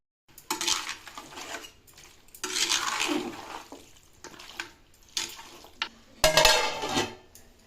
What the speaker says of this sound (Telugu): కడిగి పెట్టుకున్న మటన్ వేసి మంచిగా కలుపుకుని మూత పెట్టి ఉడికించుకోవాలి